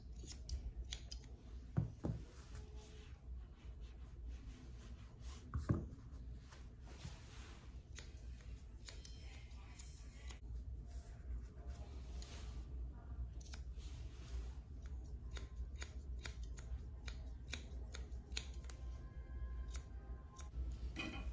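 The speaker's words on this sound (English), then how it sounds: "Trim this hair behind the ears." Scissors snip rapidly and repeatedly while trimming hair behind a Yorkie's ears, producing close, quiet metallic clicks in an uneven rhythm throughout, with a couple of louder bumps early on.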